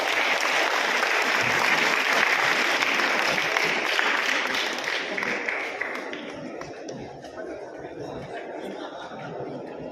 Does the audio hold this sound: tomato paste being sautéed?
no